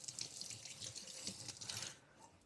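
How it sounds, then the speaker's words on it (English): A tap running into a sink while hands are rinsed in a kitchen, a faint splashing water stream that tapers off near the end. "After touching the cap or dealing with fish sauce in any way, rinse your hands."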